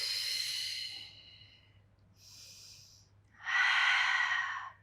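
Breathing during a Pilates spine mobility exercise, with a long, close, audible exhale, a softer short breath, and then a strong, rushing breath, each sound heard alone without any talk.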